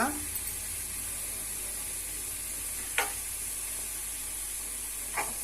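Mustard seeds and cumin sizzle steadily in hot oil, a continuous frying hiss with two brief sharp crackles standing out partway through, close and fairly loud.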